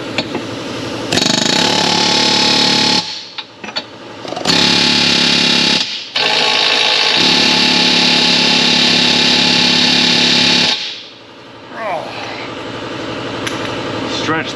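Rapid, sustained hammering on a stretched bolt of a frozen rear differential bushing on an Infiniti G37 comes in long, loud, close bursts separated by short pauses.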